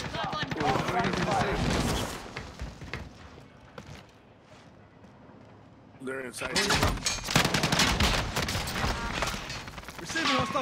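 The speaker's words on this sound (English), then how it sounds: "Receiving hostile fire." Gunfire in the video game Call of Duty Warzone crackles in rapid bursts, dense and loud at first, dropping to a quieter lull, then resuming in heavy rapid volleys, with voices talking over the action.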